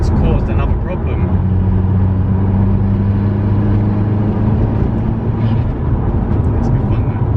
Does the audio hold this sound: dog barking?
no